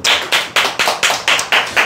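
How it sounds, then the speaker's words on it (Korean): An audience claps in a live seminar setting: about eight sharp, evenly spaced bursts of hand clapping, loud and close, with no talking over them. "박수 한번 치시죠."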